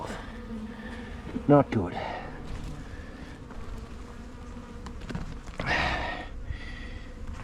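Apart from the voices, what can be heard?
honey bees buzzing at a weak beehive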